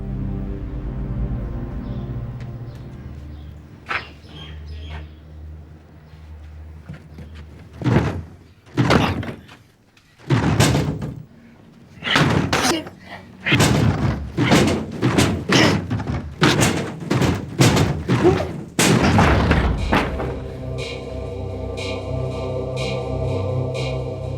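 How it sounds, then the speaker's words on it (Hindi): A door being forced and broken open in a Hindi drama scene, heard as a run of loud, heavy thuds and slams in rapid succession, close by, over a low background, with no talk. "तो फिर दरवाजा तुम दोनों तोड़ो।"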